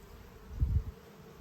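Honey bees buzz faintly and briefly during a hive inspection while frames are checked before winter, a short low hum swelling near the middle over a quiet background.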